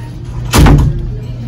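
A fitting room door in an H&M store bangs once with a loud, close thud as it fails to open, followed by a short rumbling decay.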